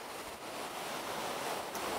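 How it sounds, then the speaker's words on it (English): Waves wash steadily against the shore of the Sea of Galilee, a continuous soft rushing surf mixed with some wind. The sound is faint and distant, with no voices. "to hear the waves that beat against the shore"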